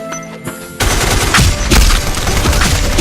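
Rapid, sustained gunfire in the online shooter Black Squad, loud bursts of automatic fire layered over each other after a quieter opening moment, with no talk.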